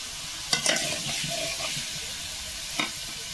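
Crab and bamboo shoot fry in a pan with a constant close sizzle, broken by a few sharp knocks and scrapes of a utensil stirring the mixture.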